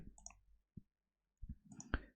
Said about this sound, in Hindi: मुझे यहाँ पे क्लिक करना है